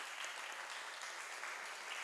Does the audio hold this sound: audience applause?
yes